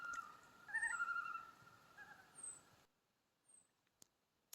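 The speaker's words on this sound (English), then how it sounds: "the loons are greeting me too" Common loons call across a misty lake in the morning, a few faint, wavering tremolo and wail notes at a distance in an otherwise quiet setting, followed by near silence and a couple of small clicks.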